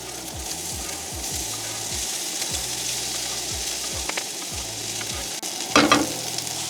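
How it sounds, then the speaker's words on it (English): Vegetables sautéing in bacon grease and olive oil over low heat, with a steady quiet sizzle, a series of regular scraping stirs and a louder burst of frying near the end. "I kept a little bit of bacon grease in there, so we're just gonna do a little bit of olive oil"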